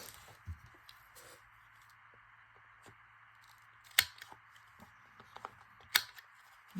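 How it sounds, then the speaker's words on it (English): Scissors snip paper for a journal in a quiet room, a handful of sparse, soft cuts with two sharper snips standing out, separated by pauses and light handling noise. "You just never cut them perfect with the scissors."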